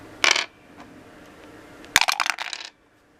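Two combat dice rolled onto a HeroQuest board game set, a sharp clatter followed after a pause by a longer rattling tumble of several quick bounces, close and loud, with no talking.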